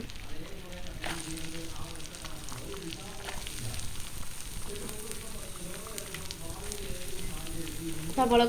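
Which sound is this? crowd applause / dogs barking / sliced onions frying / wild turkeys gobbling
sliced onions frying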